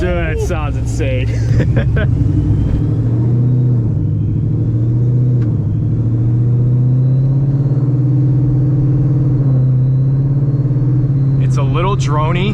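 A boosted Mustang with an AWE Track exhaust revs, then settles into a loud, steady low drone, with brief voices near the start and the end.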